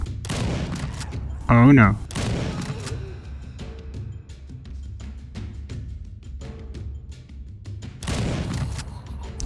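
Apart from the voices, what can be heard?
gunfire in a Game Guru video game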